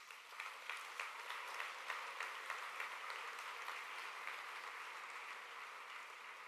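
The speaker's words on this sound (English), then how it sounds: "So a big round of applause for all of those nominees this evening." An awards ceremony audience claps steadily throughout, a dense wash of hands in a large hall, moderately distant and even with no voices standing out.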